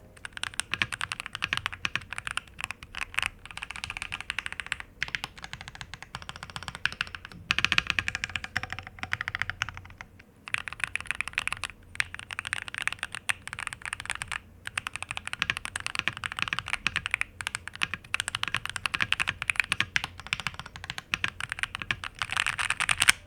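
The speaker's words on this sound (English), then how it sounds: "I really like the sound of the keyboard." Continuous typing on an Epomaker Magcore87 inductive mechanical keyboard, a dense clatter of keystrokes with a couple of brief pauses, close and moderately loud.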